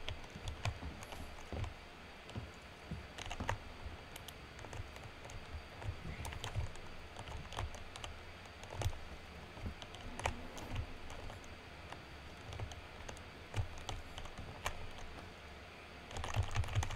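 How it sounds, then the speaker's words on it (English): A computer keyboard is typed on steadily during a game of Alien Isolation, with quick irregular clicks and clacks running the whole time, quiet and close with no talking. "I apologize for the fact that you could probably hear my keyboard."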